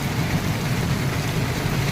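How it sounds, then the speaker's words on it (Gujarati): Heavy rain pours down in Rajkot, with a dense, loud, continuous hiss of water hitting the ground and road throughout, and no other sound rising above it. "ઘડીકમાં તો એવો વરસાદ ચાલુ થઈ ગયો"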